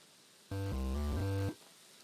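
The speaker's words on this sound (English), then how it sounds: "I guess that sound means locked door." Locked-door sound effect from the video game Songbringer: a single one-second synthesized chime of stacked harmonic tones that shift pitch in small steps, starting abruptly and then fading.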